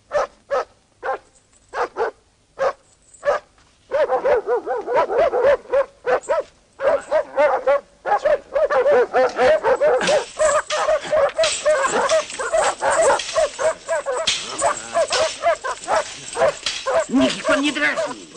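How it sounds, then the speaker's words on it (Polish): Several hungry dogs bark, yip and whimper in a rising scuffle, starting with sparse separate barks and building into a dense, continuous snarling fight close by. "Psy muszą być złe."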